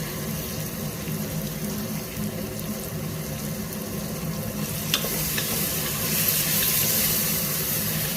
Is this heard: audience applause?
no